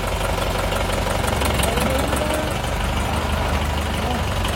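A new machine van fitted with a Bolero engine, 40 gearbox and air brake system runs on trial, its engine droning loud and steady with a knocking idle rumble, close up, while people talk over it.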